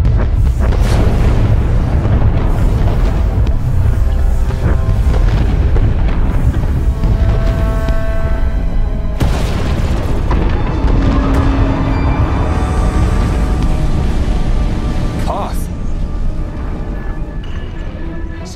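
Repeated booming explosions and bursts from a sci-fi action video game battle with skytroopers and fire, loud and continuous over a rumbling, crackling background.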